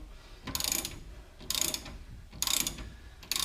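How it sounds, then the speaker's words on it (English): Ratcheting wrench loosening a shock absorber bolt on a 1972 Chevy Nova SS, three bursts of rapid clicking separated by short pauses, close and moderately loud. "Make sure your wrench is going the way it needs to go, which is loosen it."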